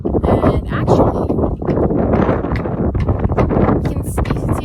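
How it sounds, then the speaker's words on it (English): Strong gusty wind buffets the microphone outdoors on Gotland, a loud continuous rumble with a person talking over it throughout. "Oh my gosh, it's really windy."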